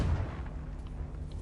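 Confringo fire spell blasting in Hogwarts Legacy, a single dense low explosive boom rumbling steadily through the short moment, close and loud.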